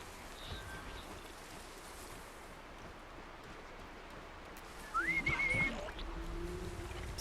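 A character in Horizon Zero Dawn gives a short whistle, a single rising then held tone that stands out clearly over quiet outdoor ambience near the end.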